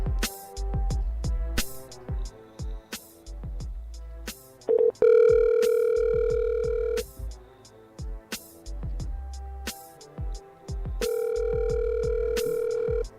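A telephone rings out on a call, steady repeated ring tones with short gaps between them, loud and close with no one talking.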